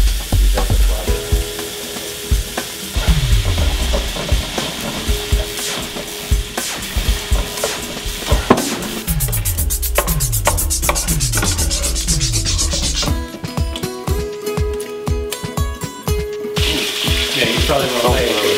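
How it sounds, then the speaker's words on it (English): Steady crackling sizzle of bacon frying in a hot pan, dense and continuous, with occasional clinks and scrapes of utensils, no talking. "such a great sound. Sizzling bacon."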